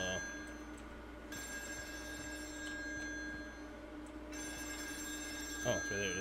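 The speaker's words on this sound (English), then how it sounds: "I was like, I hear the phone." A telephone rings repeatedly in the eerie setting of the game Still Wakes The Deep, a steady electric bell in two long bursts over a low droning background, with someone speaking briefly.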